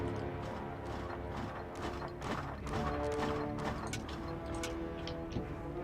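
Horse hooves clip-clop in the video game Dungeons 3, a busy run of rhythmic knocks over a droning game soundtrack, moderately loud and continuous, with no talking.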